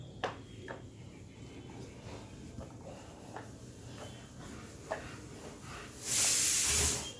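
A pressure cooker whistle lets go near the end, a loud sustained hiss of escaping steam lasting about a second, following quieter kitchen ambience with faint knocks and clicks.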